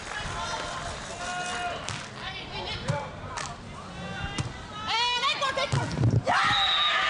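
A Chinese player at a women's beach volleyball world championship match in Rotterdam lets out a loud scream after winning a point, over a noisy, cheering stadium crowd while a commentator talks.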